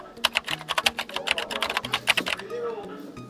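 Quick bursts of clicking keystrokes on a computer keyboard, close and crisp, with a voice speaking briefly alongside the typing.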